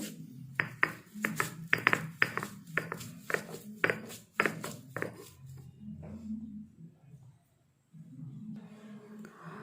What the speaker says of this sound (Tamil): இந்த மாதிரியே அம்மியில் நீங்கள் நல்லா நச்சு எடுத்துக்கோங்க